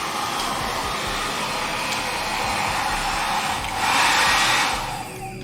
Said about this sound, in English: The hairdryer works.